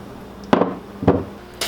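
A mini bike engine countershaft bearing being knocked out with a hammer: two sharp, loud metallic blows about half a second apart, then the start of a third, close up in a quiet workshop.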